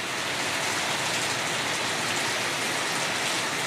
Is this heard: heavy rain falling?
yes